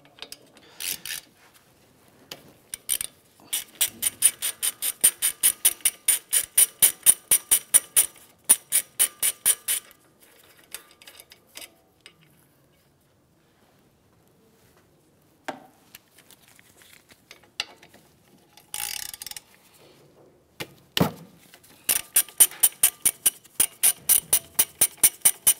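A ratchet backs out the 14 mm brake caliper bolts on a 2015–2019 Hyundai Sonata, with long runs of rapid, crisp clicking, pauses between them, and a few metallic knocks.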